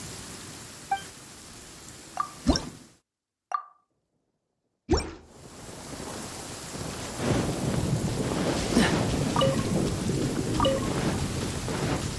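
Rain and a thunderstorm in the video game Genshin Impact: heavy rain hisses steadily, broken by sharp cracks and rumbles of thunder, with a brief dead silence partway before the downpour swells back louder.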